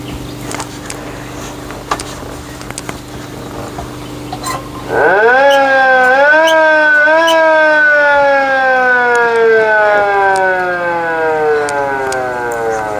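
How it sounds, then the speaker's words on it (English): A loud siren kicks in after a stretch of quiet low hum, its wailing tone rising and then slowly gliding downward as it continues. "That's the siren."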